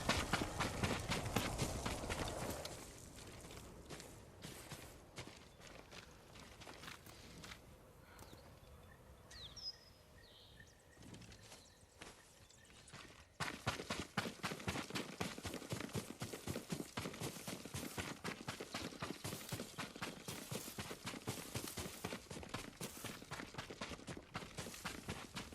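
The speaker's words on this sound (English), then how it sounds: "Yuriko's horse." Horse hooves clip-clopping in the video game Ghost of Tsushima, a steady run of close, loud hoofbeats that thin out midway, then return as a dense, continuous trot with faint birdsong in the background.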